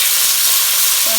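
Chopped onion frying in a pan, a steady close, loud sizzle with faint stirring underneath.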